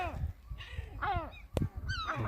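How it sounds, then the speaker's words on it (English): Harsh, repeated gull cries ring out nearby on the Scottish coast at Bute, several squawking calls in quick succession over a low background rumble. "Gull over there's gone mental."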